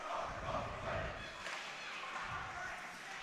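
A high school hockey crowd in an ice rink roars in a dense, continuous wash of cheering while a play-by-play announcer talks over it.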